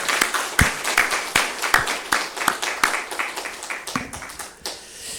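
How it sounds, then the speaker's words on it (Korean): A church congregation at a Sunday service applauds the Sunday school children, a loud close burst of many overlapping claps in a quick uneven rhythm that fades out near the end. "우리 교회학교 친구들을 위해서 크게 한 박수로 격려하겠습니다"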